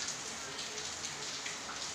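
Rain falls steadily and evenly, a dense hiss of drops on surfaces that stays constant throughout, with no talking.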